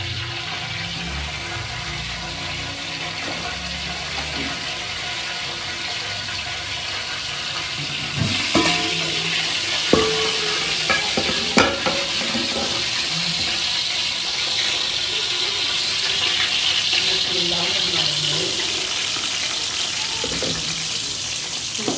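Okra fries in ghee with a constant sizzling hiss, broken by scraping and clacking stirring sounds from a utensil in the pan, close and fairly loud.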